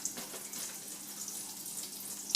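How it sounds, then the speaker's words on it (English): Slices of green tomato fry in hot bacon grease, a soft steady hiss and crackle of sizzling heard close but fairly quiet, with no voices. "you can hear the tomato starting to sizzle in the bacon grease"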